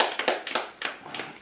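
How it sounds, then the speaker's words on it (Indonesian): A church congregation clapping in a brief burst of scattered, uneven handclaps, moderately loud and close, fading slightly toward the end. "Tepuk tangan dong buat Tuhan Yesus"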